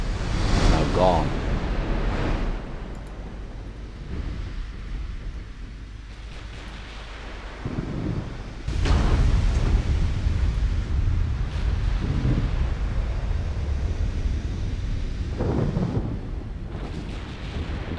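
A thunderstorm at sea in a naval battle game set in Norway, 1956, with American battleships: roaring wind and sea, booming rumbles swelling and fading, a continuous loud wash of storm noise with speech over it.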